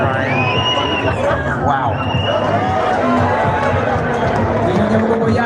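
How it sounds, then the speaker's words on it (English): A large roadside crowd on the way to Mont Kigali during the world cycling championship, a loud, continuous hubbub of chatter, shouts and cheers close by, with people talking over it. "The crowd's getting bigger and bigger and bigger."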